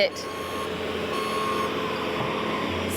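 Steady electronic reversing beeps ring out from a delivery truck at a garden center, repeating evenly over a continuous background rumble.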